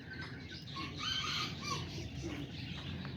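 Small, short-legged roosters and hens, kikiriki and Azteca chickens, cluck and call in a pen, their calls scattered over steady background noise with no talking.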